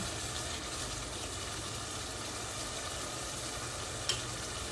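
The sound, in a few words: food sizzling and bubbling in pan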